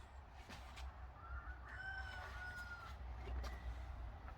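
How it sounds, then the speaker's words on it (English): A rooster crows faintly in the distance, its thin call rising and falling over steady low background rumble. "probably can hear the cockerel in the background"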